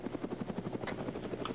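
A military helicopter in Arma 3 thumps with rapid, regular rotor beats, loud and close, a steady chopping pulse throughout with a faint whine above it.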